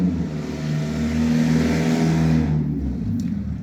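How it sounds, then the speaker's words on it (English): Road traffic rolls past as a car drives by close, a steady engine rumble and tire roar that builds, holds, then fades away toward the end. "You can hear the traffic."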